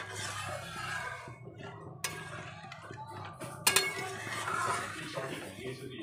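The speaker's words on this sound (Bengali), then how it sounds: "রান্না করার সময় এইভাবে খুন্তা ঘোরাতে হয়, তাহলে কড়াই একদম পরিষ্কার থাকে" A metal spatula stirs and scrapes around a wok while fish is cooked, producing quiet repeated scrapes and clinks with a couple of sharper metallic knocks, close by and with no talking.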